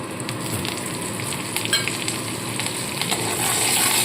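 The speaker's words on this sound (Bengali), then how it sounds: "এইবার এই তেলের মধ্যেই আমি কালো জিরে আর কাঁচা লঙ্কা ফোড়ন দিয়ে দেবো।" Nigella seeds and green chilies tempering in hot oil for a Bengali hilsa fish curry, giving a steady close crackling sizzle with a few sharper pops, growing slightly louder toward the end, with no voices.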